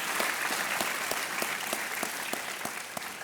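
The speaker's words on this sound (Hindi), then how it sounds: "तालियों के साथ रेनू जी का स्वागत किया जाए" A studio audience on a televised quiz show applauds to welcome a contestant, a dense, steady wash of many hands clapping at moderate distance, continuing evenly throughout.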